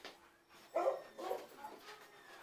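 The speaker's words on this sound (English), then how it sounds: "That's my dog. That's my puppy." A puppy whimpers indoors in a few short, soft whines, the two clearest close together near the start, then fainter yelps trailing off.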